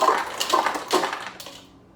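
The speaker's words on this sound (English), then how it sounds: "We're gonna throw some ice in here and give this a nice shake." Cocktail shaker with ice being shaken hard, a loud, dense rattle of ice against metal in quick bursts that fades out near the end, close up with no talking.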